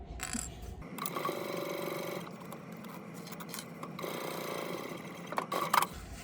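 A sewing machine with a zipper foot runs in steady bursts as it stitches along a zipper's teeth, whirring in two long runs with brief pauses and a small clatter near the end, with no voices.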